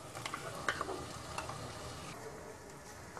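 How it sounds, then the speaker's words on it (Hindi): Masala with tomato and onion paste fries in a pan for a methi paneer dish, giving a steady, soft sizzle broken by a few light stirring taps. "मसाला अच्छे से भून चुका है, अब उसमें टमाटर और प्याज का पेस्ट डाल देंगे।"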